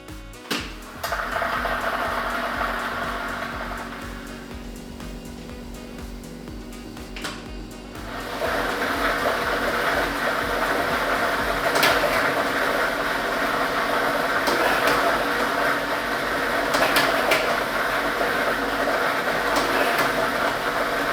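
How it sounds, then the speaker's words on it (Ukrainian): A lottery drawing machine starts up after a brief clatter, then churns with a continuous loud rumble of tumbling balls and air, punctuated by sharper rattling knocks as balls strike each other, close and without speech. "Тиражна комісія до початку гри довільно обрала лототрон А комплект кульок номер 2 І ми вмикаємо лототрон."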